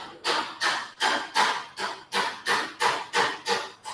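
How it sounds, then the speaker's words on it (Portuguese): Hammer blows strike nearby at a steady pace, about nine evenly spaced sharp impacts in four seconds, loud and alone with no talk. "Aí vem alguém com um martelo."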